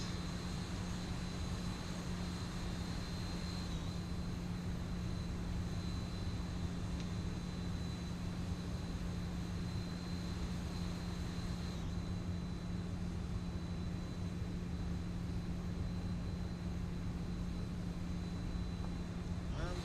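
Steady airliner engine hum from a JetBlue Embraer E195 taxiing to the gate in X-Plane, a constant low drone with a faint high whine that shifts twice, continuous and moderately loud.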